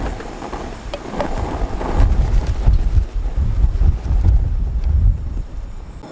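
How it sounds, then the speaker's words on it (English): Strong wind at a riverside campsite on Oregon's Deschutes River, roaring and buffeting the microphone in heavy low-pitched gusts that swell and ease over several seconds, with no one speaking. "The wind is ripping this morning."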